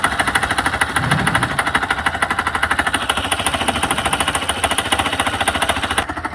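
A Hero Xpulse motorcycle engine with a crankshaft-like knock runs steadily at close range, a fast, even, hammering clatter with a high whine above it, loud and alone.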